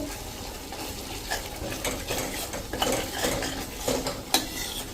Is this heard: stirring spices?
yes